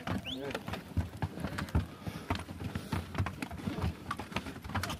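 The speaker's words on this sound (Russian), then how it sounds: "Вот лошадки с грузом." Horses and mules carrying cargo clop along with uneven hoof beats, steady and moderately close, under a continuous busy outdoor background with some voices.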